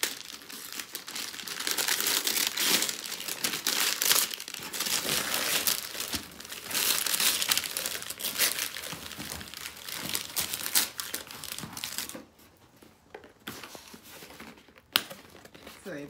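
Birthday gift package being unwrapped and opened, with steady loud crinkling and crumpling of wrapping for most of the stretch, then a quieter pause with a few sharp tears and rustles near the end.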